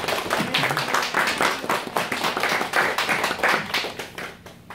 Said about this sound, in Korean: 한번 우리 환영의 박수 한번 하도록 하겠습니다.